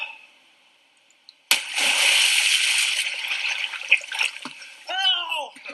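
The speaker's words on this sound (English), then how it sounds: "going to fall directly backwards, Inception style, into the water" A person drops backwards into a swimming pool with one sudden loud splash, followed by a few seconds of churning, sloshing water, then a short spoken exclamation.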